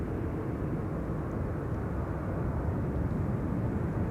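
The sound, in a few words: Delta Airbus A330 taking off at Schiphol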